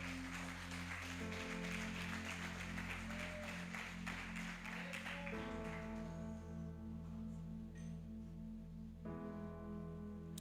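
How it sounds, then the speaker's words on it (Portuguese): A church congregation applauds during a family worship service, a broad wash of clapping over sustained instrumental tones that fades after about five seconds, leaving the music. "Você pode aplaudir bem forte o nome do Senhor."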